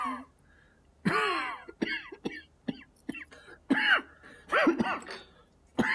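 A person coughs repeatedly in a dramatic film scene, with a cough blamed on changing weather: about six close, hoarse bursts and throat-clearing sounds separated by short pauses, with no other talk.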